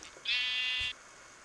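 A single sheep bleat from the Minecraft video game, one short buzzy tonal call of under a second, clear against a quiet background.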